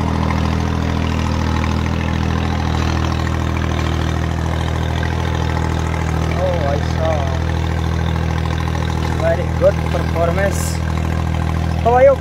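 A New Holland 3630 Super tractor engine runs steadily throughout, a low rumbling drone held at an even level, with a few faint higher chirps and brief sounds over it toward the end.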